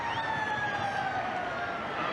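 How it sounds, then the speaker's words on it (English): A siren sounds at a 1991 Manly versus Parramatta rugby league match as a sustained, slowly falling wail over a steady crowd roar. "And he ran it dead because he heard the siren."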